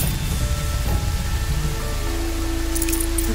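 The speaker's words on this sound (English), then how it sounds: "More rain. My boots will get damp." Steady rain in the video game Horizon Zero Dawn on PS4, a continuous close wash of falling drops with a soft low rumble underneath, holding even throughout with no speech.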